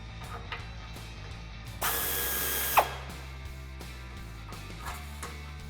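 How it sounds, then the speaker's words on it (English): A ratchet with a 16mm socket loosening a muffler clamp on a 2009-2018 RAM 1500 5.7L, heard as one quick, close clicking burst lasting about a second, with faint taps before and after against a quiet background. "we're going to remove our muffler by loosening this clamp at the front using our 16mm socket"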